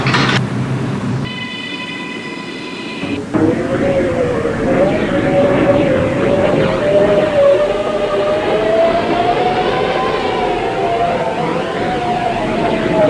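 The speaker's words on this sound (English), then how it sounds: "This is a Coney Island bound M train via the D line." Subway train running in a Roblox game, an R211 M train bound for Coney Island on the D line, with a steady loud rumbling roar and a rising whine throughout, a brief tonal chime near the start, and no talk.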